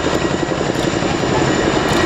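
RAF Chinook twin-rotor helicopter at an air show, its loud, steady rotor and engine roar filling the air continuously without a break.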